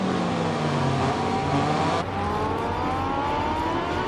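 A safety car laps the Catalunya circuit before a Moto2 race, its engine a loud sustained drone with a pitch that falls as it passes, then climbs again while the car accelerates away.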